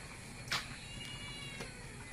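A hungry cat gives one sharp, fairly close meow, followed by a fainter short cry, against a quiet indoor background.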